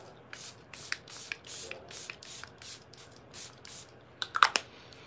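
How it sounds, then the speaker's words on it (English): Makeup setting spray misted from a pump bottle in a series of short, soft bursts at close range, followed near the end by a cluster of sharper, louder spritzes. "I'll spray it again."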